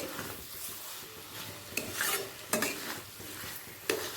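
A spoon stirs bottle gourd with poppy seed paste in a pan, scraping and rubbing against the metal with soft sizzling underneath and a few sharper clacks, close and steady with no voices.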